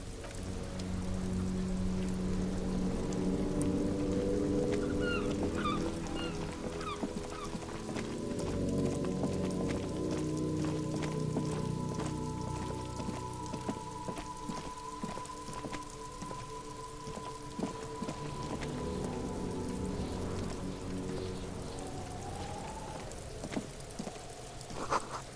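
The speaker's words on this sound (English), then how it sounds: "This rain will not let up anytime soon." Steady rain falls in the video game Disco Elysium, a soft continuous patter of drops over long sustained tones that rise and fade.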